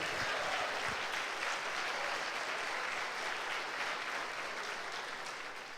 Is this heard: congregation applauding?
yes